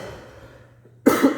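A single harsh, close cough bursts out after a second of quiet room tone, loud and brief with a raspy tail.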